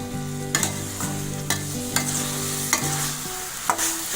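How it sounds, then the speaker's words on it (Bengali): Chicken mince and spice paste fry in a pan while a spatula scrapes and stirs in regular strokes about every half second, over a steady sizzle and soft background music. "কিমার সাথে খুব ভালোভাবে মশলাটাকে নাড়াচাড়া করতে হবে।"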